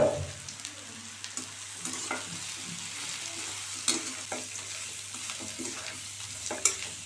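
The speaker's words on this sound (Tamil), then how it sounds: "ஒரு 10 நிமிஷம் அடுப்பில் மீடியம் ஃப்ளேமில் வச்சு நல்லா ஃப்ரை பண்ணுற அளவுக்கு வச்சு வறுத்து எடுத்துக்க வேண்டியதான்." Masala-coated potatoes fry with softened onions in a pan over medium flame, a soft steady sizzle broken by frequent scraping stirs and a couple of sharper clinks.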